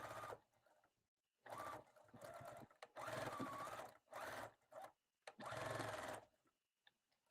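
A sewing machine stitches a quarter-inch seam on the lining of a Crown Royal bag, running in several loud close bursts of steady whirring with short quiet pauses between them, no voices.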